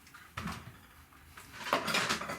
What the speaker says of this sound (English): Chopping board.